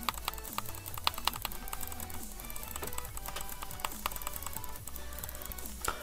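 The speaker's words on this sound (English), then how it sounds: "You guys hear my clicking?" Rapid spam clicking while playing modded Minecraft Skyblock, a close, dense stream of sharp clicks and taps mixed with keyboard-like tapping, continuous and fairly steady in rhythm.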